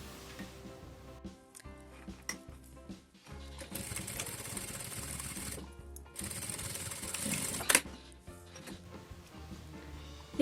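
Close and moderately loud, a sewing machine runs a finishing seam on a fabric pouch with an expandable bottom, its motor whirring in short bursts and then a longer continuous stretch of stitching, with no voice.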